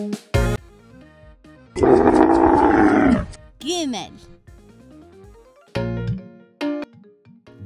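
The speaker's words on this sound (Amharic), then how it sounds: "አንበሳ ሲያገሳ ድምጹ እስከ 8 ኪሎ ሜትር ድረስ ሊሰማ ይችላል።" A lion gives one loud, rough roar lasting over a second, set among short animated sound effects and voices from a children's animal program.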